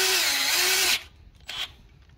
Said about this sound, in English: now take our power tool, tighten the screws.